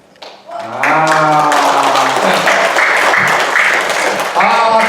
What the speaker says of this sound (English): Give John a big clap.